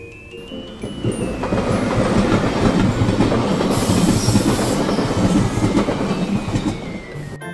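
A train rolls past with loud, steady rumbling and clickety-clack of wheels on rails, swelling and fading, with a faint squeal from the wheels.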